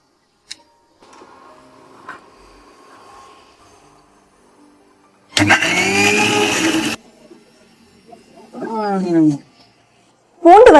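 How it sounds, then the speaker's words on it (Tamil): Fried tamarind is whirred in a kitchen mixer grinder jar in one loud burst of about a second and a half, amid near silence, followed by short spoken bursts. "இப்போ இது வந்து நம்ம மிக்சி ஜார்ல போட்டுடலாம்"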